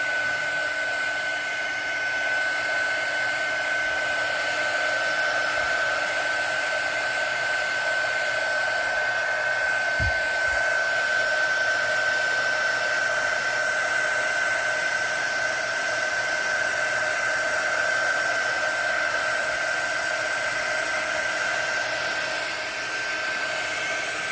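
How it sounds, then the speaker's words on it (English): Heat gun blowing steadily to dry a ceramic resin casting, a continuous loud whirring hiss with a constant high whine, running alone for the whole stretch with one brief knock partway through. "Take my heat gun and I'm going to dry it."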